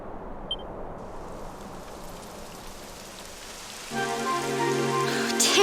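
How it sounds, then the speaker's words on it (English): Rain in the video game Dragon Quest XI, a steady soft hiss of falling drops that grows louder and joins with a rising game music tone near the end. "It would have to go and start raining, wouldn't it?"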